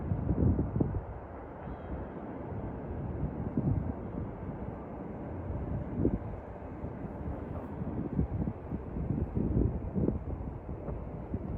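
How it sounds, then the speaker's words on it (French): Steady low wind rumble buffeting the microphone outdoors in autumn in Montreal's Westmount area, with gusts swelling and easing throughout; no voices. "Je sais pas si vous allez m'entendre parce qu'il y a beaucoup de vent"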